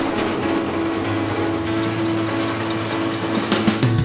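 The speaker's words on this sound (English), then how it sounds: "Now the train is running to the world's most special land." A Korail tourist train runs along the rails toward the DMZ, producing a steady dense rumble with a sustained tonal hum and faint rhythmic clatter, close and continuous throughout.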